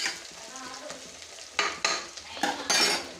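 Masala for mushroom biryani sizzles in a pan while a spoon stirs and scrapes it in several quick, distinct strokes, close and fairly loud, with no talking.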